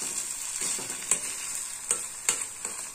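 Fried brinjal being stirred and pressed with a ladle in a pan, giving a constant sizzle with several sharp metallic scrapes and taps at uneven intervals.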